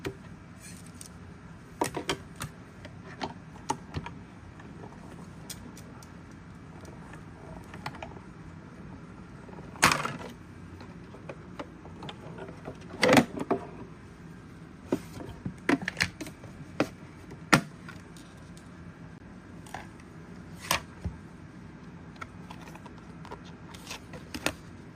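Paper inside a Lazy Daisy embossing folder is cranked through an embossing machine, producing scattered mechanical clicks and clunks with a few sharper knocks over a quiet background, with no speech.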